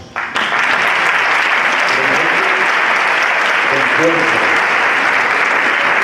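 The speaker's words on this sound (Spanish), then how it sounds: "de verdad, merece un aplauso" A loud, dense burst of audience applause breaks out suddenly and holds steady, with a few voices faintly audible beneath the clapping at a talk on human libraries and sociocultural animation.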